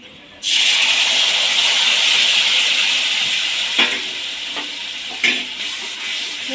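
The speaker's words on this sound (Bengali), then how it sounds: "হালকা কষিয়ে নেবো" Spice paste of turmeric, chilli, coriander and cumin powders for a vegetarian bitter gourd curry hits a hot pan with a sudden loud hiss, then settles into a steady sizzle with a few clinks of stirring.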